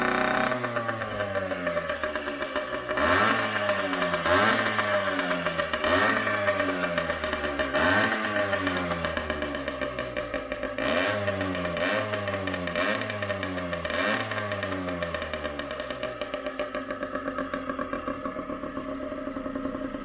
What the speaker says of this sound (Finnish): Taitaa olla mopo vähän tukossa